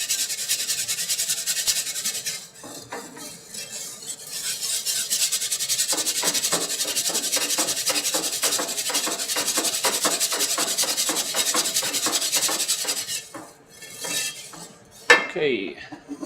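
A whisk scrapes continuously against a metal pan while a flour-thickened sauce is stirred, a fast rhythmic close rasping that runs for a long stretch, pauses briefly, then resumes with a clank.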